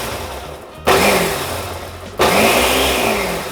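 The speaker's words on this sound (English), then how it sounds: "Dump that into a blender and pulse it until it is turned into a flour." Quick oats whirring in a blender in two loud pulses, a steady high-pitched motor roar cutting off briefly near the one-second mark and again around two seconds before resuming, close and alone with no talk.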